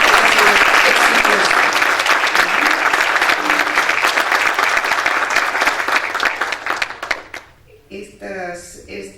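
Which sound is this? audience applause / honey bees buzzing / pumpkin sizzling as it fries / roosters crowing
audience applause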